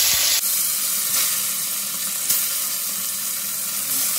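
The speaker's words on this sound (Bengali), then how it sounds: "এবার আমি আবার বাদ বাকি মাছগুলো এইভাবেই ভেজে নেব।" Pieces of bata fish frying in hot oil, a dense continuous sizzle heard close up with a couple of faint clinks, the crackle holding steady throughout.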